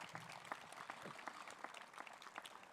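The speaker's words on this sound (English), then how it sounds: "would you please join me in a round of applause for the Academy singers as well as our honor guard?" A gathering at a sunrise remembrance ceremony applauds the academy singers and honor guard, a continuous, fairly faint patter of many hands clapping at a distance.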